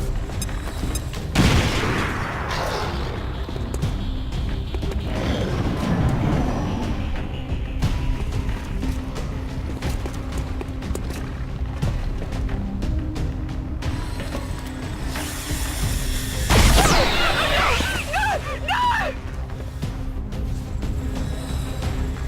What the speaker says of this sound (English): But we will throw this frag grenade anyway.